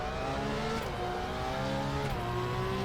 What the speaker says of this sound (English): The flex on the transmission and drivetrain whine is absolutely brilliant.